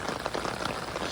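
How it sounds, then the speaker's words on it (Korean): Monsoon-season rain shower falling steadily over a farm field of peppers and weeds, a soft, even hiss of drops with no voices. "비가 소나기가 오락가락 하고 있습니다"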